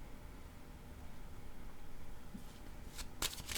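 A deck of cards shuffled near the end of a quiet stretch, a few crisp riffling bursts close by after near silence, no talking.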